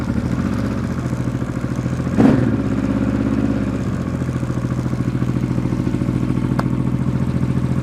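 A Honda XRV750 Africa Twin motorcycle engine, fresh from a rebuild and running a bit lean on one cylinder, fires up with a sharp burst and then settles into a steady, loud, close-up idle with a continuous mechanical rumble.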